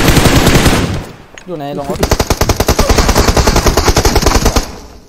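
Loud automatic gunfire in the battle-royale shooter PUBG Mobile: an opening burst, a brief pause with a short spoken word, then a rapid sustained rattle of shots close up.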